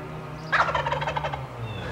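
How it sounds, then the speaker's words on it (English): A wild turkey gobbler gobbles loudly nearby, a rapid rattling burst of gulping notes lasting about a second, with a low steady hum underneath. "He's gobbling a lot."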